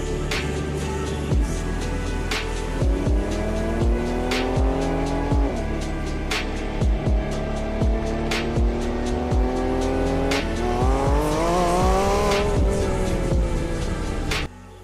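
A 6.5-liter V12 hybrid supercar engine revs hard and loud, rising and falling through repeated sweeps with sharp shift-like cuts between pulls, up close and alone.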